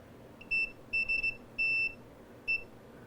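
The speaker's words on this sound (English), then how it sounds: "other parts of the rail you should hear a beep." A multimeter on continuity setting emits short electronic beeps while probing the rails of a synth circuit build, four tones of varying length, clear and close against a quiet room.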